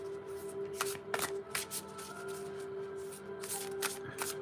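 Astrology tarot cards are shuffled by hand in a quiet room, a series of crisp riffling bursts and soft slaps repeating every second or so against a faint steady hum.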